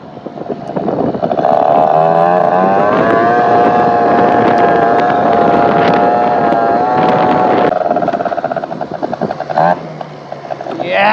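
A 70cc Polini Corsa engine on a Vento Triton R4 revs hard and holds a high, buzzing pitch for several seconds, then drops back toward idle with a few sharp blips. It sounds loud and close.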